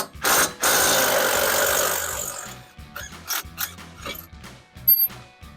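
A ratchet with a 15 mm socket works a front strut bolt loose on a Silverado/Sierra 1500 during a Bilstein B8 5100 shock install, with two loud bursts of rapid clicking up close followed by scattered clicks and metallic clanks.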